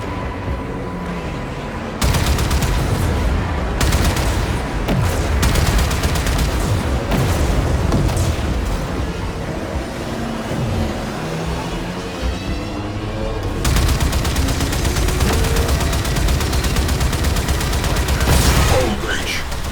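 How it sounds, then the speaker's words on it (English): Warheads fired in a full salvo in Warframe, a dense barrage of booming launches and explosions that surges in loud bursts over nearly twenty seconds, with game voices layered underneath. "Arm the warheads. Fire full salvo."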